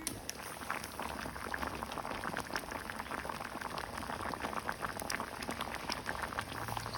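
Old, dark durian seeds simmering in a covered pot of water, a soft, continuous bubbling with faint popping, fairly quiet and steady throughout.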